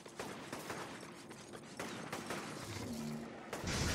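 Gunfire in the video game Infamous: a busy stretch of rapid shots and impacts crackling over a dense, noisy backdrop, ending in a louder burst.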